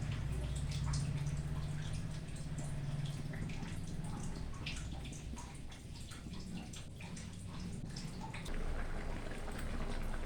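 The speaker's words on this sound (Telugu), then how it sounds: "ఇప్పుడైతే పప్పు ఇలా ఉడుకుతుంది." Bottle gourd dal simmering in a pot, soft bubbling and gurgling with faint drips, quiet and close, steady for the whole stretch without talk.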